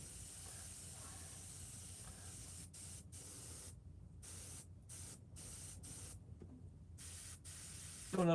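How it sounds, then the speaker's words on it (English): An airbrush sprays paint with a faint, continuous hiss, interrupted by several short gaps where the trigger releases, ending with a brief louder sputter. "You airbrushing tonight, Tim?"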